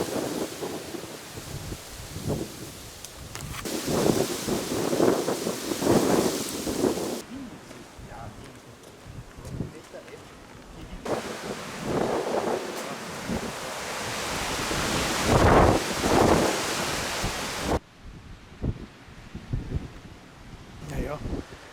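Strong wind blows outdoors during a hunt, a loud rushing broadband roar in long surges that rise and drop abruptly, with a voice speaking at times beneath it.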